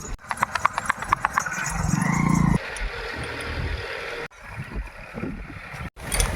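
A mare's hooves clip-clop in a quick, regular rhythm at close range as she is run in an open field. The beat gives way to a louder whooshing passage and mixed outdoor noise with brief gaps.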